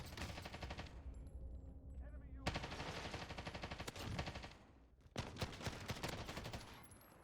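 A machine gun with a 150-round magazine fired in short feathered trigger bursts during a video game advance, loud repeated bursts broken by brief pauses, with a voice talking over parts of it.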